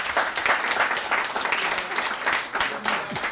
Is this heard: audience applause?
yes